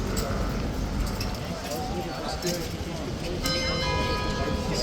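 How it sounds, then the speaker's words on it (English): The 45-minute bell rings during the Horse Guards changeover, its clear tones coming in toward the end over constant crowd noise and talking nearby. "That I think is actually the 45-minute bell."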